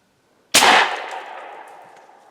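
A single sharp crack from a Hatsan PileDriver big bore PCP air rifle fired at a spike deer about 25 yards away outdoors, loud and sudden, then a long fading reverberant tail.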